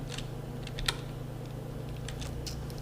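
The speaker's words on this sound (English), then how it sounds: "otherwise you can start typing" Light typing on a computer keyboard in a few scattered bursts of soft clicks, close but faint over a steady low electrical hum.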